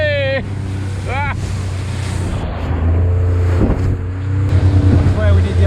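A tiny speedboat climbs steep, giant waves at sea. A loud engine drone runs throughout, buffeted by wind and the crash and slap of surf, with excited shouting voices over the noise.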